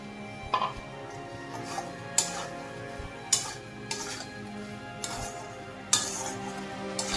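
Fried soybean chunks and potatoes are stirred into spices in a pan, with repeated sharp spoon clinks and scrapes against the metal at an irregular rhythm over a soft sizzle.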